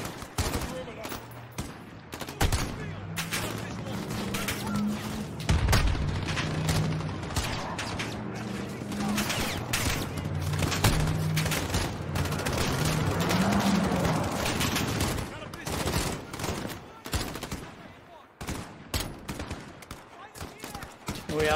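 Dense gunfire in a Call of Duty: Modern Warfare firefight rattles on almost continuously, with overlapping rifle bursts and sharp cracks, while voices talk over the shooting throughout.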